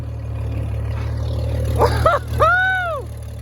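A tractor engine idles with a steady low drone, and a voice rises briefly over it near the end.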